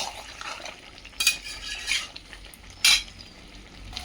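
Mutton and new potatoes are stir-fried in a pot, with soft, faint sizzling under a few sharp metallic scrapes and clanks of a spoon against the pot.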